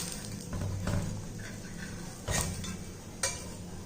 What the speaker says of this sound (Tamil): இப்போ நம்ம கொஞ்சம் தோசை கரண்டியை வச்சு லைட்டாக பரட்டி போட்டுக்குருவோம்